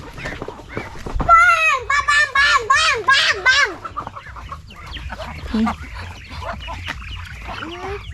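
Backyard chickens clucking and squawking loudly up close, with a burst of rapid calls early on, while people talk nearby on a rural vegetable farm.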